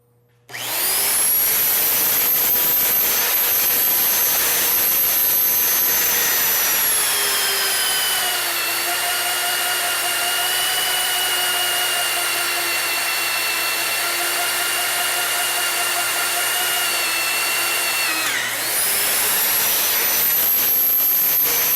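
A drill with an annular cutter cuts steadily through metal with a loud, sustained high-pitched whine that dips in pitch midway, then runs up again near the end.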